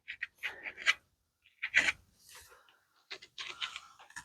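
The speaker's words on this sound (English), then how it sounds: "I just want to scrape the sides of this down a little bit." A spatula scraping the sides of a mixing bowl, producing several short, close rasping strokes separated by brief pauses, with no talking.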